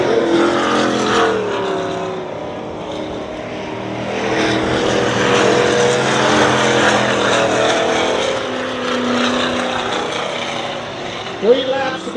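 Race cars roar around the dirt oval at Dirtona Raceway in a continuous, rising and falling engine drone. Passing cars swell in loudness, while others sound farther off.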